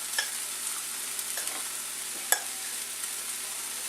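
Tomatoes and rice cooking in a pan: a faint, steady sizzle with a few soft clicks of stirring, heard alone.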